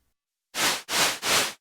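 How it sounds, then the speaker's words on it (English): Three short, even bursts of hissing white noise from an ARP Odyssey synthesizer in quick succession, each cutting off sharply, with silence before. "We've got white noise"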